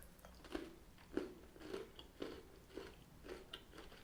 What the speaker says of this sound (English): the cinnamon crunch are very crunchy